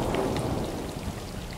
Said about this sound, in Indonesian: Kayaknya kita nunggu hujan reda kali ya.